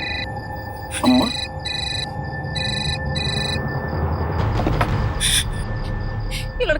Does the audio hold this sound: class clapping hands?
no